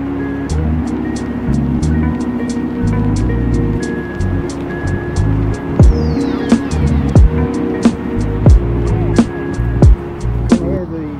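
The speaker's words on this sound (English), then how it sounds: "You can hear the noise of the traffic, roads running parallel to the canal" Steady low road traffic rumble from roads running parallel to a canal near Skipton, with passing vehicles swelling and fading at a distance under the hum, plus scattered sharp clicks and knocks nearby.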